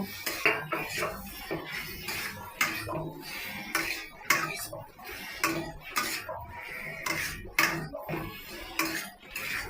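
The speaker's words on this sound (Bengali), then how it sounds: "আলুটা দিলাম, দিয়ে নাড়াচাড়া করব।" Potatoes stirred in a cooking pan for a soybean and potato curry, a spoon clinking and scraping against the metal in irregular close strokes, with no talking.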